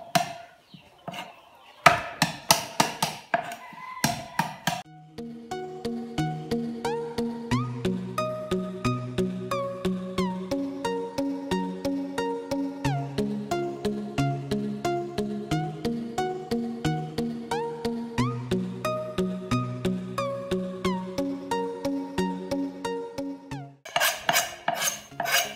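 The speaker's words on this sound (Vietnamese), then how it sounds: "Băm thịt gà anh em ạ. Băm thịt gà để làm sốt." A knife minces chicken meat on a board in quick, steady repeated chops, with a short burst of louder chopping at the start and end and music playing under the middle stretch.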